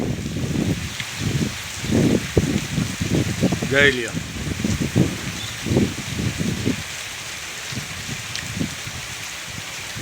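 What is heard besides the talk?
heavy rain on farm fields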